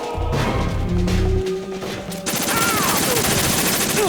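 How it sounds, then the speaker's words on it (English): Automatic gunfire in the video game Metal Gear Solid 2, a loud burst of rapid shots with crashing impacts over game sound, close and dense, with no talking. "Because we don't really make too much use of the machine guns, so we might as well use them now."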